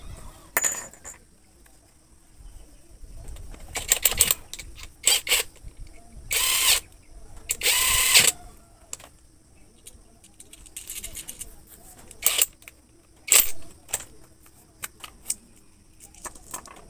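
Sharp metallic clicks and short bursts of tool noise come as a handle and bolts are fitted to a gold locator. The sounds are scattered and irregular against a quiet background, with occasional brief speech between them.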